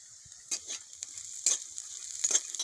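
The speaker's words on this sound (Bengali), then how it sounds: "এখানে নিচে আদা কুচি, রসুন কুচি আর লঙ্কা কুচি একসঙ্গে দিয়ে দেবো।" Chopped onion, ginger, garlic and green chili fry in a pan, a soft continuous sizzle punctuated by several brief stirring scrapes, with no voices.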